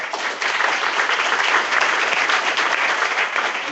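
An audience at an early-stage investment program breaks into steady applause, a dense, even wash of clapping that holds for several seconds with no talk over it.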